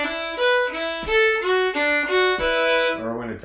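Fiddle playing a traditional Irish tune at a quicker tempo, ornamented with rolls; bright bowed notes in a steady lilting rhythm, close and clear with no talking.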